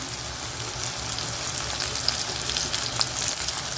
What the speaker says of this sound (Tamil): இதை கொஞ்சம் வதக்கிடுறேன் பச்சை கருவேப்பிலை போட்டுடுறேன்